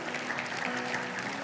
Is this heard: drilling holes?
no